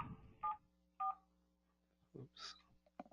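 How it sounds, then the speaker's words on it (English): Keypad tones on an IP desk phone sound as a few short, separate beeps dialing a star code, faint and close, with brief speech fragments between them. "I can dial *74."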